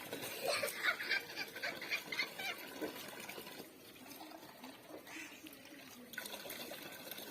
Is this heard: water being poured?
yes